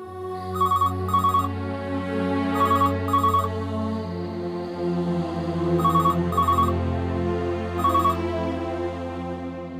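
An indoor telephone bell rings in repeated double bursts, loud and close, over a low steady hum of background music in a Marathi TV drama scene.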